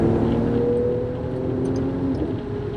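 A Mercedes-AMG C43 with a 3.0-litre V6 is driven on a race circuit. Its engine gives a loud, steady drone with a fairly even pitch throughout.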